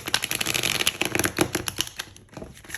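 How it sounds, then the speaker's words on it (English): A deck of tarot cards being shuffled by hand, giving dense rapid riffling clicks in quick bursts, close and fairly loud throughout, with no voice. "Think of your question clearly in your mind, my lovely collective number 2, while I shuffle."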